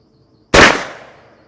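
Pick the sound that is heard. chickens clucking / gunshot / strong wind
gunshot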